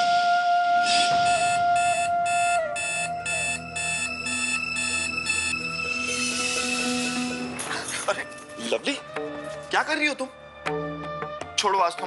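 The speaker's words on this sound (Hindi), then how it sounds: "10 मिनट के बाद घंटी बजेगी" An oven timer sounds a rapid run of electronic beeps in steady pulses for several seconds. A tonal hum plays underneath, and busy, clattering household noise follows.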